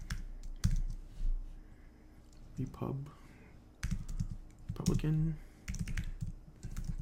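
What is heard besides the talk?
typing keywords on a computer keyboard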